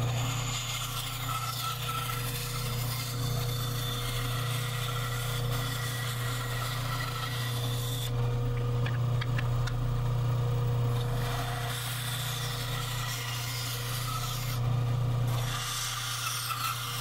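Power sanding of a cut wooden piece for a wristwatch-shaped clock gives a continuous motor drone under a broadband gritty rasp. The rasp briefly lightens twice as the piece is lifted, close and steady with no voices.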